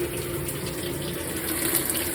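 Water pouring steadily into the drum of a GE top-load washing machine on a hot, maximum water level fill, a continuous rushing hiss with no talk.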